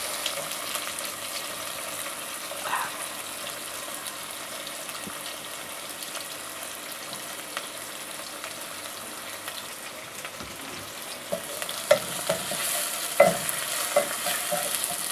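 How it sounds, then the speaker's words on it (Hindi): Chopped onions frying in oil with browned cumin for a pumpkin sabzi, a continuous close hiss and sizzle with occasional spoon scrapes and clinks near the end. "उसके बाद मैं डालूँगी इसमें अपने कटे हुए अनियंस।"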